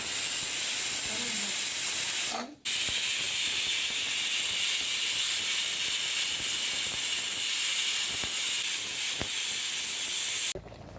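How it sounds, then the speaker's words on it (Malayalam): A strong, continuous hiss of steam rushes out of a pressure cooker whistle for several seconds, briefly cutting off once, loud and close. "നമുക്ക് കുക്കറിൽ ഒരു വിസിലടിച്ചിട്ട് വരാം"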